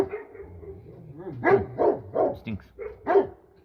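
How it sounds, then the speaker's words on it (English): Several dogs bark and yip in a rapid, uneven series of loud, close barks, with a whimpering tone between them, while a person briefly speaks. "all these dogs are barking"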